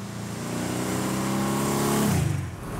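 A 1960s Mercedes classic car engine drives hard, loud and steady with harmonic revving that climbs and then drops near the end as it shifts.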